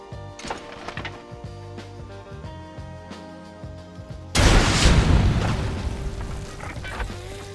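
An RPG rocket launcher in a Metal Gear Solid Delta VR mod fires, and a sudden loud, booming explosion cuts across tonal background game audio, then rumbles and slowly fades.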